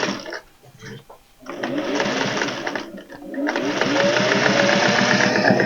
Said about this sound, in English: I'm going to just sew on the line where the bottom is.